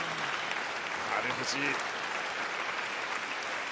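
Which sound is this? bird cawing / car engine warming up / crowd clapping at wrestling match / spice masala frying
crowd clapping at wrestling match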